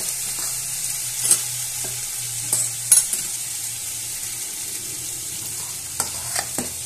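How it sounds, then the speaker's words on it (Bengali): Green chillies go into hot oil as a tempering for a yogurt fig curry, with a soft steady sizzle, a low hum, and a few sharp clinks of a spoon against the pan. "আমি কাঁচা লঙ্কাও এতে ব্যবহার করব, তাই আমি অর্ধেকটাই ফোড়ন হিসেবে দিয়ে দেব"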